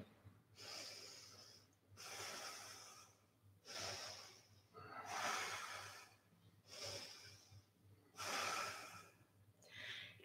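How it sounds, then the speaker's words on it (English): Slow, deep breaths during yoga, heard up close as a series of long airy inhales and exhales in an even rhythm, about five cycles, quiet, with no talk. "keep breathing."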